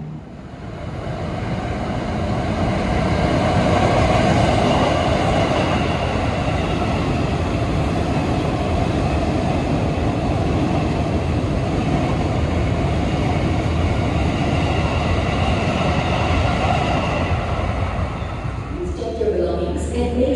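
The Manahan train pulling into track 2 at Gambir station in Jakarta, a loud, continuous rumble of rolling railcars that swells in and holds steady for about twenty seconds, with a brief shift near the end.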